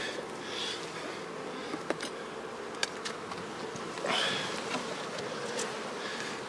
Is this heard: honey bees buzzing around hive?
yes